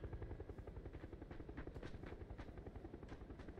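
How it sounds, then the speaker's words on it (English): A helicopter in the video game PUBG flies overhead, its steady rhythmic rotor thumping continuous and moderately distant, heard alone without talk. "Chopper in the sky, 2 guys on it."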